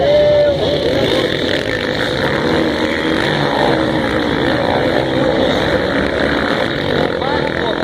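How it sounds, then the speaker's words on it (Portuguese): Motocross motorcycle engines rev hard at a race start, a loud, continuous, high-pitched engine drone that holds steady throughout, with voices faintly in the background. "Vira para 5, sobe o giro dos motores."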